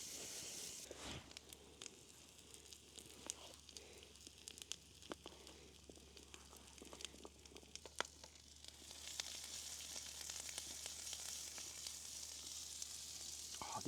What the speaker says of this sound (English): Chuck these potatoes in first, let them cook, and then I'll use that oil, the garlic butter, to fry off the mushrooms and stuff